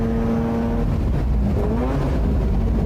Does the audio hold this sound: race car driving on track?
yes